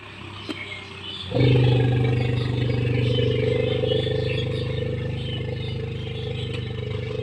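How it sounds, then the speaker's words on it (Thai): A farm tractor plowing a grass field starts up sharply after a quieter opening, then settles into a loud, steady engine drone with clattering that holds to the end, with no one talking. "ได้ยินเสียงรถไถ"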